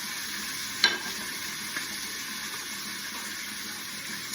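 Mackerel sizzles in a hot pan with a soft, steady crackle, broken by a sharp scrape and clink as it is stirred, and a faint second knock a moment later.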